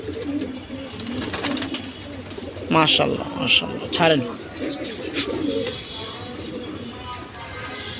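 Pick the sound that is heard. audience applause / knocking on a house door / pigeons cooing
pigeons cooing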